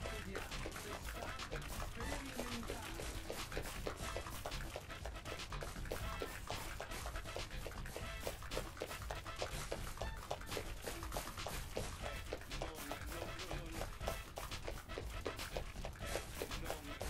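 A dog pants quickly and steadily in Deadly Premonition, a close, rhythmic run of breaths that never stops, with faint murmuring underneath.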